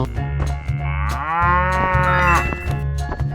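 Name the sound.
cow mooing in a 3D animal video game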